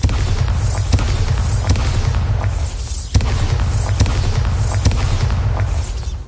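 A Bombarda explosion spell cast in Hogwarts Legacy, heard as a loud, dense run of booming blasts and thumps, with a stronger hit midway and no speech.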